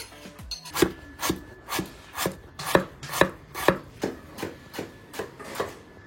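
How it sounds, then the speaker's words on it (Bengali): Potatoes chopped with a knife on a board, about a dozen crisp, evenly spaced cuts close by, each a sharp thud-like chop in a steady rhythm. "এই আলু কুচাচ্ছি"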